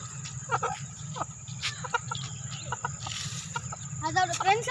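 A rooster that wandered into a house clucks and calls in short bursts, with people talking nearby and insects buzzing steadily in the background.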